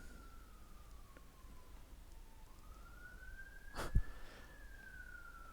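A distant emergency siren wails faintly in the background, its tone sliding slowly down and then back up in a long sweep, with a brief sharp knock standing out near the end.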